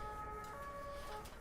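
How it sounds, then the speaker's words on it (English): A Paris police car siren wails faintly in the distance, its steady electronic tones carried over low street noise. "I love that kind of police noise from Paris"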